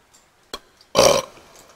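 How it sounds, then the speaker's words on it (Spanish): A single loud, close burp tasting of coffee erupts after a brief click, standing alone with no talk over it. "Es un eructo con sabor a café."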